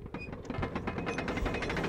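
Magically spinning door mechanism in Conker's Bad Fur Day, giving a rhythmic, grinding creak with steady clicking pulses like turning gears, sounding alone and fairly close.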